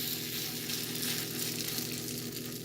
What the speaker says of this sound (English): the butter is sizzling, which is the important thing